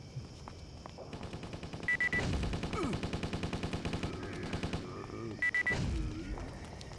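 A Gatling gun in the zombie action game Stubbs the Zombie spins up into steady rapid rattling fire, a long even burst of close mechanical shots with a short break near the middle before it resumes.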